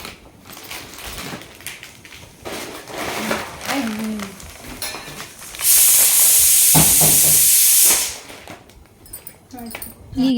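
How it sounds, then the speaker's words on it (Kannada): A pressure cooker releases a loud, steady burst of hissing steam lasting a couple of seconds, rising out of a busy room with clatter and voices around it. "ಇದು ಒಂದು ಕುಕ್ಕರ್ ಕುಕ್ತಾ ಇದೆ"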